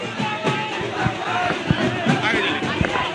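Large, dense crowd at a political nomination rally for Intekhab Ahmad, a steady near roar of many voices with occasional louder shouts and bumps, with people talking close by.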